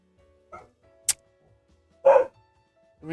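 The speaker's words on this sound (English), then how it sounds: "Oh my god, a freaking dog." A dog barks a few times in separate bursts, one sharp yip followed later by a louder, fuller bark, with quiet pauses between them.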